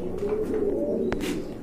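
A pair of white German Beauty Homer pigeons coo close by, a steady low murmuring call running through the short moment with a brief sharper sound near the end.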